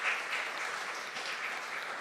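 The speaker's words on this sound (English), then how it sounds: "give a clap to Federico and his team." Audience at a wine-week tasting applauding a Prosecco wine maker and his team, steady, even clapping from many hands, somewhat distant and soft, lasting throughout.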